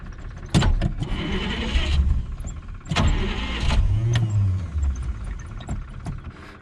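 A 1948 Studebaker engine runs with the throttle floored, a loud rough roar surging and sputtering close by, with no talk over it.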